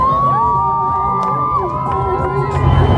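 A South African crowd shouts and cheers around a performer, a sustained loud roar of voices with rising whoops and children's cries, steady throughout.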